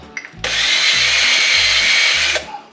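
A drill spins a chamfer tool against a drilled and tapped metal part in one loud, steady two-second whir, with faint clicks before and after.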